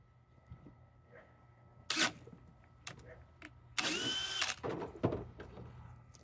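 A DeWalt 996 cordless drill with an 8 amp-hour battery, on speed 3, whirs in two short bursts, the second longer, with a few clicks and handling knocks between them in a quiet room.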